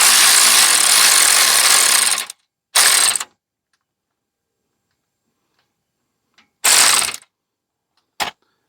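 A ratchet snugging up the front axle cover bolts on a 2019 Ford F-250 Super Duty, a loud close burst of rapid clicking that stops, then a few shorter ratchet bursts separated by silence.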